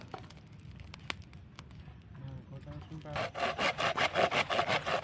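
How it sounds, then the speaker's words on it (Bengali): Bamboo is sawn outdoors while preparing a picnic bamboo chicken: faint scraping at first, then a run of loud, rhythmic back-and-forth saw strokes through the second half. "বাঁশটা ভালোভাবে কেটে নিচ্ছে বাম্বু চিকেনের জন্যে"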